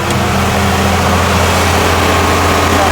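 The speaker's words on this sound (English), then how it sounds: "On the auger, we got a 4040 John Deere." A John Deere 4040 tractor engine drives a grain auger during corn harvest, producing a steady, loud, low droning idle with a constant hum and no pauses or voices.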